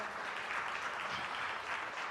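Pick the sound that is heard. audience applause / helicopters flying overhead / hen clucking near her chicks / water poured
audience applause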